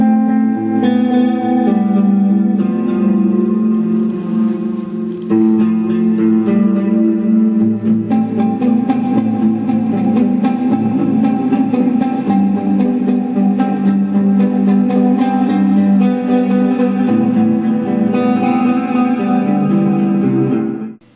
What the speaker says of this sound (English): if we went back to that flange echo